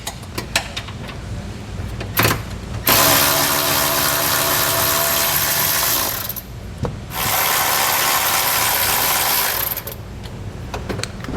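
A ratchet wrench backing out 15mm bolts from a bracket while mounting a trailer hitch receiver on a 2021 Chevrolet Equinox, with two long runs of rapid, loud clicking between short pauses and a few tool knocks, heard without talk.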